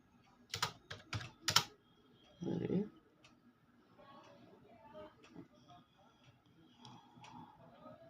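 Computer keyboard typing of C code, heard as a few quick bursts of clicking keystrokes followed by quieter scattered taps and a short thud, close and moderately loud with faint talking in between.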